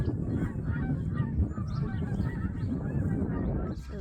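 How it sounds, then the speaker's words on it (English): A large flock of Canada geese flies overhead on a sheep farm, honking continuously in overlapping, irregular calls at moderate distance. "Those are our Canada geese."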